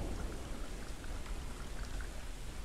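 Steady rain falls outside a tent, a soft continuous broadband patter with no breaks or voices.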